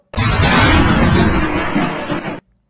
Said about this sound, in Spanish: Explosiones, por favor.